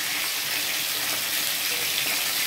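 Potatoes frying in a pan, a steady close hiss and sizzle of hot oil running evenly throughout with no pauses and no voices.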